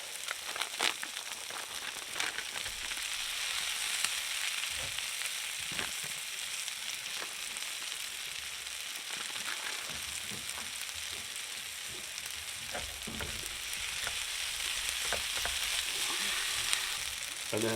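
Noodles frying in a pan while being cooked with pork, a steady loud sizzle and crackle throughout with intermittent stirring scrapes and taps, close up and without talk.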